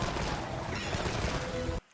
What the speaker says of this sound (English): Now what he's showing is that you still utilizing your rapid fire